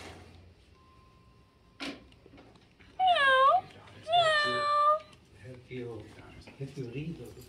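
A lifelike toy cat gives two clear, drawn-out meows in quick succession, loud and close, between soft clicks and quiet speech from people nearby.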